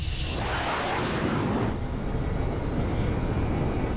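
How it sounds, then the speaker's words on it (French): An aircraft engine igniting and shaking the airframe during a spaceflight emergency, a loud roaring rumble with a rushing whoosh that swells early and then holds as a heavy, steady drone. "Quand tout s'est mis à vibrer après l'allumage moteur."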